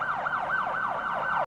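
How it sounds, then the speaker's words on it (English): Wailing police car siren from a kids' vehicle puzzle video game, a steady cartoonish electronic tone sweeping up and down in quick repeated cycles, loud and close, alone, cutting off abruptly at the end. "Police car."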